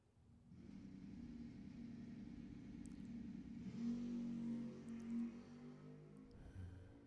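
A drag racing car launches down Lebanon Valley Dragway, a steady mid-pitched engine roar that swells and rises in pitch as it accelerates, heard from a distance for several seconds without talk.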